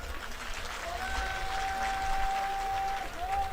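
Audience applause at a Punjabi singer's on-air appearance: a dense, steady wash of clapping that holds throughout at moderate loudness, with a thin sustained tone running through the middle.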